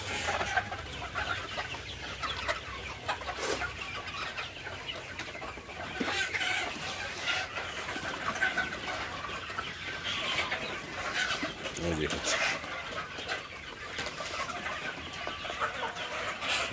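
A flock of chickens clucks steadily while eating feed on a farm, overlapping soft clucks and occasional louder squawks at close range, continuing without speech.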